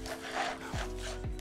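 A dry spice rub is worked by hand into ribs for a sticky ribs recipe, making brief gritty rubbing strokes close up over a faint, steady background tone.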